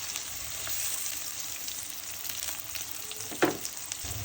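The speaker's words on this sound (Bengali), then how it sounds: "বন্ধুরা দেখো, হালকা করে একটু পেঁয়াজগুলোকে আমি ভেজে নিলাম।" Chopped onions, salt and sliced green chillies fry in hot oil in a pan, a soft continuous sizzle with a light stir and one brief clink near the end, fairly faint and without talk.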